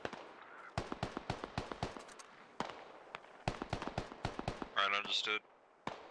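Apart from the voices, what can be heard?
gunfire in video game SquadOps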